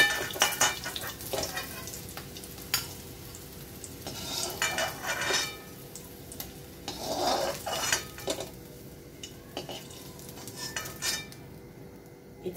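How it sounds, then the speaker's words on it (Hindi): Food frying in a pan in a home kitchen, a soft sizzle under scattered clinks and scrapes of a spoon against the metal, with no talking. "इसको भी मैं लाल करके तल लूंगी"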